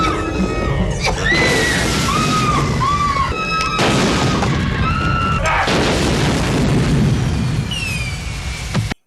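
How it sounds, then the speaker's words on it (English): Explosions from the 1990 horror comedy Frankenhooker, a loud, dense barrage of booming blasts and crashes with rising and falling screams and whistling tones woven through, sustained without pause before cutting off abruptly. "They start exploding."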